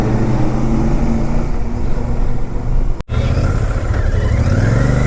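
A Super Meteor 650 motorcycle rides on the road from Delhi to Manali, its engine a loud, steady roar with heavy rushing wind and one brief dropout partway through.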